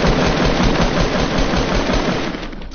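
A shotgun fires in a video game, heard as a dense, loud, continuous roar of gunfire that fades slightly at the end, with no talk over it.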